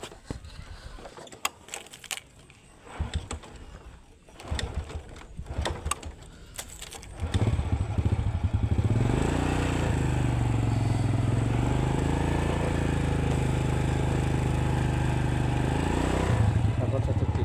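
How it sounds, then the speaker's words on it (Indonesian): Motorcycle starting up after a stretch of scattered clicks and handling noise, then running steadily and loudly at close range for about ten seconds, with the engine note rising and falling. "Pakai motor kesayangan kita."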